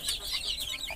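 Desi (native Bangladeshi) chickens kept in a cage cluck continuously at close range, a busy overlapping chatter of hens with no talk.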